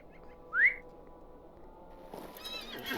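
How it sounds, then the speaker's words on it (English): A single short, high horse whinny in the video game Lord of the Rings Online rises sharply near the start, followed by quiet background hum and a faint rustle of noise toward the end. "We have a horse, you guys."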